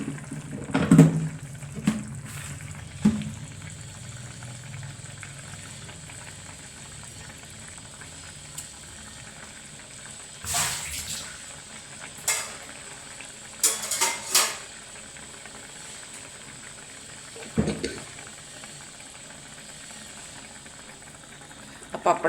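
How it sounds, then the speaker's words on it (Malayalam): Fish curry simmering in a covered pot, a quiet continuous bubbling broken by occasional clinks and brief bursts of louder noise, with talk at times. "ഇനി മീൻ തിളക്കട്ടെ. മീനൊന്ന് വറ്റട്ടെ."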